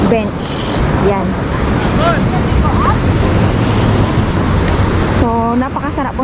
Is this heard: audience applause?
no